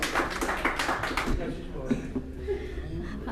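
Listeners at an Urdu mushaira poetry evening clap for a recited couplet. A short burst of close, lively hand claps fades after about a second and a half into murmuring, soft chuckles and scattered taps.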